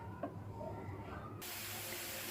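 Onions frying in oil in a pan for zeera rice, a steady soft sizzling hiss that grows brighter and fuller partway through, faint and close with no talk.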